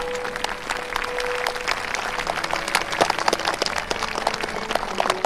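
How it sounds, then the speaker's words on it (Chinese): Wedding guests clap for the newlyweds, a dense, steady round of applause from a crowd filling the room, continuous and fairly loud. "请大家再用掌声祝福一下这对新人"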